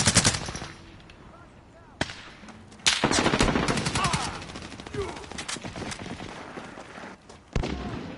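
Automatic gunfire from Call of Duty: Modern Warfare, with loud rapid bursts that start, stop and resume over a continuous battle din, and a voice talking briefly.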